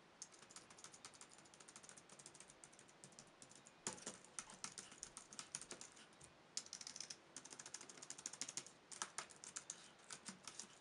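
Typing on a Samsung AA-SK6PWUB computer keyboard, a steady run of close, quick key clicks with brief pauses and a few harder bursts, heard alone without talk.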